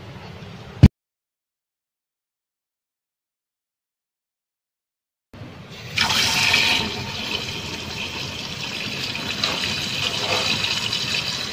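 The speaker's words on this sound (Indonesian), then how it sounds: "telur yang telah direbus ni kita buang air panas tu, ganti air paip." Hot water from boiled eggs is tipped out with a brief splash, then after a pause tap water gushes steadily into the pot, filling it with a continuous rushing flow.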